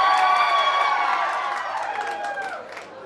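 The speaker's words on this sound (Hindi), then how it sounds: "अरे भाई अपने लिए तो ताली मार दो, सबके लिए तो मारते ही हो" An audience at a toppers' honour ceremony for an arts coaching class in Gayaji claps and cheers, a steady, loud wash of applause with high whoops rising over it that slowly fades toward the end.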